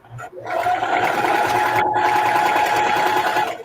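A sewing machine stitches fabric for a reversible bucket hat, running in one loud, steady whirring burst from close by, starting and briefly pausing near the middle before carrying on to the end.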